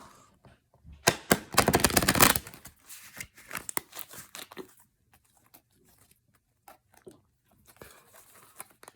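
A deck of cards is riffled in a loud, fast burst of flutter, followed by scattered crisp snaps and taps as the cards are squared and handled, with no talking.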